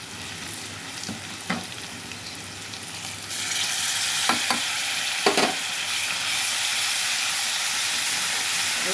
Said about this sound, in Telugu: కొంచెం లైట్గా ఉప్పు వేసి వేగనిద్దాం.